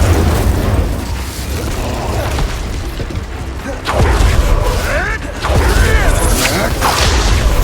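A fire spell cast in Hogwarts Legacy bursts out with whooshing blasts and booming impacts amid busy combat noise, with two sharper swells partway through and other battle effects layered underneath.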